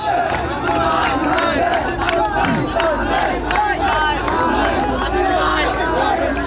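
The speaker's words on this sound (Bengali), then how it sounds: "দর্শক এবং সমর্থক রয়েছে তাদের স্লোগান কিন্তু আরো তীব্র হচ্ছে।" A dense crowd of supporters chants slogans for cricketer Tamim Iqbal, loud and continuous, with overlapping voices shouting together and a steady roar of crowd noise throughout.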